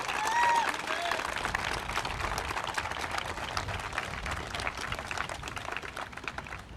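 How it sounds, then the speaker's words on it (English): A crowd at a Second Amendment rally applauds military veterans, with a sharp whistle cutting in near the start and then a sustained, moderately distant patter of clapping mixed with some crowd voices. "Can we get a big round of applause for those men and women?"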